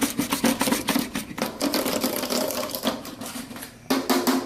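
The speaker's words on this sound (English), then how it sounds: "we're going to use our amazing mixer again, and I'm going to go ahead and show you how easily this mixer does" A hair product mixer whirs steadily, with a mechanical buzz broken by brief pauses and restarts, running close up without talk.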